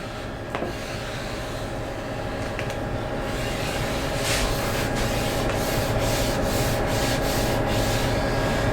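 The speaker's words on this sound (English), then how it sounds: "it's always best to squeegee the top part first" A squeegee rubs steadily across the top surface of a camper topper build, giving a continuous close scraping hiss that grows slightly louder, with no talking.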